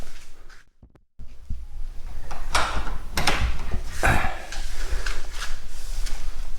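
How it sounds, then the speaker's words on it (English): Metal bolts on a door in a garage workshop in Thailand being slid and clunked, a series of sharp knocks and scraping slides after a brief silence, close and fairly loud against faint room noise. "I've got 2 bolts on the door."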